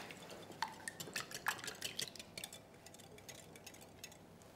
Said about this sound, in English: And just whisk all of that together.